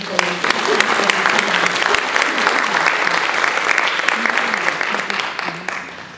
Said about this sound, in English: Let us give a round of applause to all of the people.